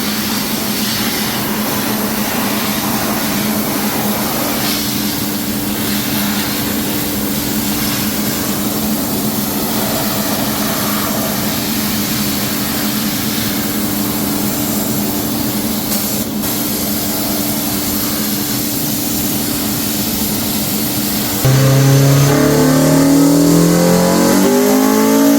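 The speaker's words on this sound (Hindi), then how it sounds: "हमने इस ड्रम के अंदर घुसा दिया है ताकि इस गाड़ी की आवाज कम हो सके" A modified car engine with its exhaust muffled inside a drum idles with a steady droning hum, then near the end revs up sharply into a louder, rising roar.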